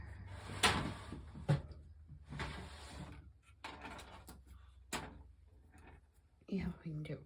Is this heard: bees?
no